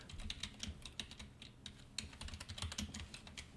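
Rapid, irregular keystrokes on a computer keyboard while a Windows 10 command for adding an administrator user is typed at the command line, close and steady with no talking.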